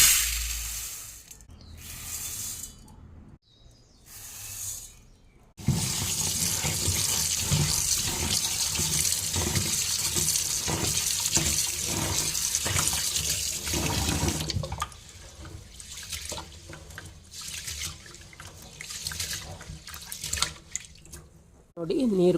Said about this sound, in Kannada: ಬೇಗನೆ ಇವಾಗ ಅಕ್ಕಿಯನ್ನು ತೊಳೆದು ಹಾಕ್ತೇನೆ.